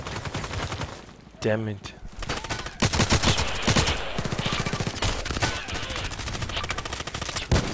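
Rapid automatic gunfire from the online shooter Contract Wars, loud and dense bursts running almost throughout, with someone speaking briefly over the shooting.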